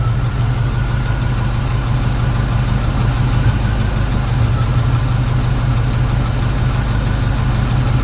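A 1968 Chevy Camaro SS engine idles after a cold start, a steady, close, loud low rumble with a constant throb and no break for the whole stretch; no one speaks.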